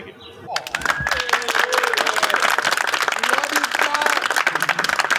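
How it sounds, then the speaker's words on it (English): A car show crowd outdoors gives a round of applause, a sustained dense patter of many hands building quickly after a quiet start, with voices and cheers mixed in. "I want to give you guys a round of applause for being Awesome."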